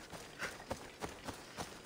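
Hooves of a horse clip-clop in the video game Assassin's Creed Odyssey, a steady trot of evenly spaced hits, each crisp but fairly faint, over a soft ambient bed with no talking.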